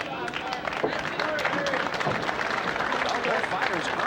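Applause from the crowd at a boxing match for the ring girl between rounds, a steady wash of clapping and crowd noise with a voice talking over it throughout.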